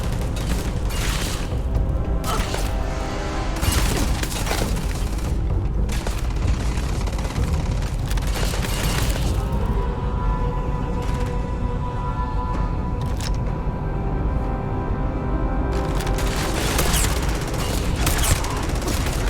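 Gunfire from the sci-fi game Starfield: a steady barrage of heavy, booming shots with a slow rate of fire, repeating loudly and close over a dense background of constant combat noise, with no voices.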